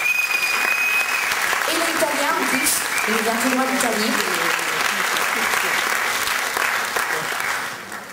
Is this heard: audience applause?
yes